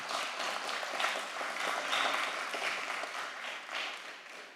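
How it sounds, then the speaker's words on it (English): A commission meeting audience applauding guests from a vehicle rescue association, a soft, diffuse patter of clapping that stays even and somewhat distant for the whole stretch. "Guys, if you can give a round of applause."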